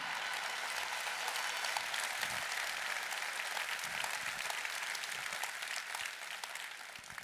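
A crowd at a May Day political speech applauds Roberto Dorazio with a dense, sustained, even wash of clapping that lasts the whole stretch and eases slightly at the end.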